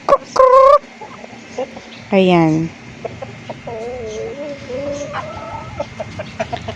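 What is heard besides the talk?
farm chickens clucking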